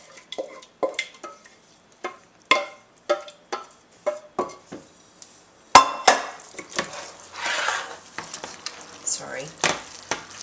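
Pasta being stirred into sauce for a baby's macaroni cheese, with a series of wet scrapes and clinks against the bowl or pan, followed by a louder, denser stretch of mixing and a brief spoken word.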